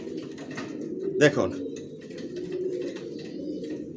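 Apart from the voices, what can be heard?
racing pigeons cooing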